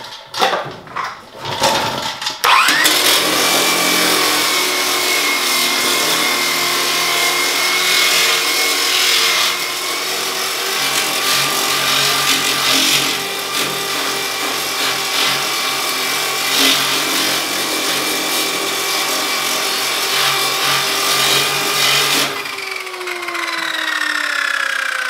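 A shrinking disc grinds steadily across a weld on a car body panel, a loud close continuous whine with a rough friction edge lasting about twenty seconds before spinning down at the end.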